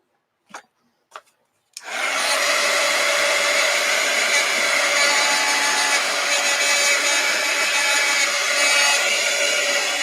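Two brief clicks come first, then a dryer blowing on painted papers starts and holds a loud, steady, close whoosh for the remaining eight seconds.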